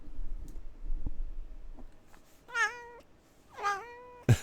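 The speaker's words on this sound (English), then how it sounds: "Loud kitty face." A pet cat meows loudly indoors, two drawn-out, wavering meows following faint scattered taps and clicks, with a short sharp noise at the very end.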